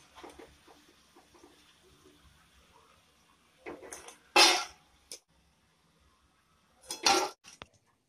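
Fried wheat flour (atta) triangle chips are lifted out of the pan with a metal utensil, giving a few sharp clinks and scrapes over a quiet background, with gaps in between.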